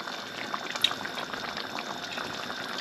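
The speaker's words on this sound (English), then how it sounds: "it's coming to a boil now, as you can see" Homemade lasagna sauce comes to a boil in a pot, a continuous close simmering hiss with small irregular bubbling pops and no voices.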